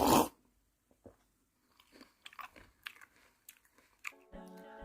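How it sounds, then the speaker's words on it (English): A man eating and drinking noisily with loud sucking, slurping and chewing sounds, close and alone, in a burst at the start followed by scattered bites and munches. "Drink or eat something with a loud sucking noise or sound."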